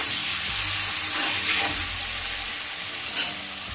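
Paneer cubes fry lightly in hot oil for a vegetarian capsicum paneer dish, giving a close, continuous sizzle and hiss with a few soft stirring scrapes and one brief sharper burst near the end.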